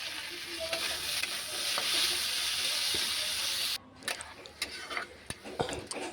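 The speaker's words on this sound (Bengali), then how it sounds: "টমেটো দিয়ে নাড়ছি এবারে" Tomatoes sizzle in a hot pan with cabbage and potatoes for a curry while a spatula stirs, a steady frying hiss broken by scraping clacks and taps of the utensil against the pan, close and moderately loud.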